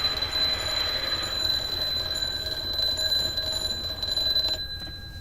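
A wall clock mod alarm in Ark Survival Evolved sounds as a continuous high ringing tone that holds steady for several seconds before stopping near the end, with no talking.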